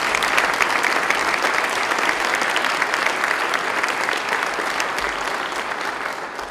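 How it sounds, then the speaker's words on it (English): Audience applause in a hall at a state budget signing event at SUNY Oswego, steady and sustained clapping from a large crowd throughout. "Let's give him a round of applause, Bob Duffy."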